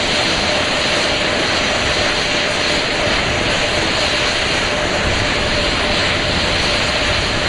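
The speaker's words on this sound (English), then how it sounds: "we're going to get that thrust vector control actuator test. This is a gimbaling of the engines." Four RS-25 rocket engines, three of shuttle heritage, gimbal during a thrust vector control actuator test on the Artemis II launch pad, heard as a steady, loud, broadband roar and hiss with no talk.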